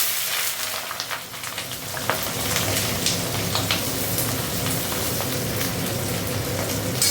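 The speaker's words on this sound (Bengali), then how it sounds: "তেলটা একটু গরম, দেখো আলুটা দিয়ে দিই।" Potato pieces dropped into hot oil crackle and sizzle loudly and continuously, a dense, steady frying noise close by with no talking.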